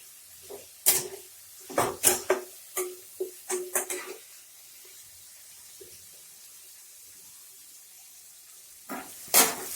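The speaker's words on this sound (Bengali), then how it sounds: "একটু নাড়াচাড়া করে দিব পেঁয়াজটা ভালো করে ভাজা হোক" Onions frying in a pan as they are stirred, a cluster of loud bursts of sizzling and scraping in the first few seconds, then quiet, then one more burst near the end.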